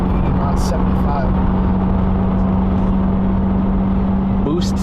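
A 2018 Subaru WRX with its muffler deleted cruises at highway speed, giving a loud, steady exhaust drone and road roar with a constant low hum throughout, close to the cabin.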